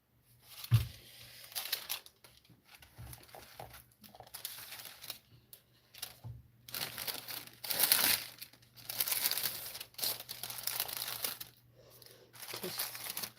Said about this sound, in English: I'm folding the edges of the paper, so hopefully it doesn't curl on me.